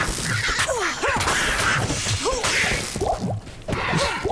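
Crows cawing in Diablo 2, a rapid series of harsh caws repeating in quick bursts, loud and close over background game noise.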